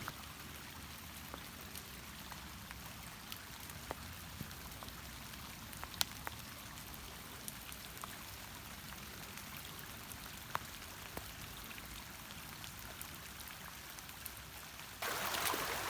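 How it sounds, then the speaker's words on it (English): Flood water runs through a small creek on farm property, a steady broadband rush and trickle with scattered droplet ticks, fairly close and even throughout, swelling louder in the final second. "It's a pretty little creek."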